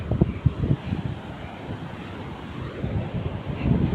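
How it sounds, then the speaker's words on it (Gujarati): Water from the overflowing Hathasani dam rushes steadily in a loud, continuous roar with no voices over it. "પાણીની સ્પીડ એટલી જાય છે ને તમને આમ જોવી જ ગમે"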